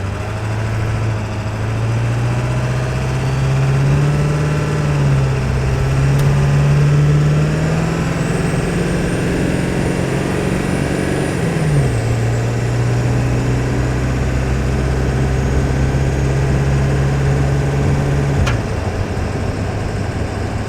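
A Ford 7.3 Powerstroke diesel truck engine runs loud and close with a steady heavy drone, rising slowly in pitch, dropping around the middle, then settling before a final dip near the end.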